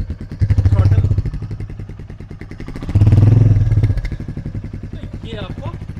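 A Royal Enfield Meteor 350 cruiser idles with a deep, even thump, then is revved twice in loud surges a couple of seconds apart, heard close up with someone talking over it.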